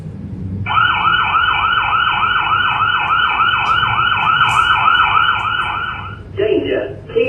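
A Hikvision analog security camera plays a loud electronic siren alarm, a rapidly warbling two-tone wail lasting about five seconds, followed by a short synthetic voice announcement.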